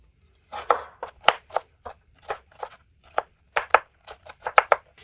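A knife chopping through a tomato on a cutting board, a brisk series of sharp, close taps in an uneven rhythm with short pauses between bursts.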